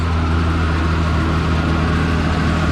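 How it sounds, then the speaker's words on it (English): A Ford tractor engine runs with a steady low rumble throughout, close and loud, with no voices over it. "I always wanted one of these tractors."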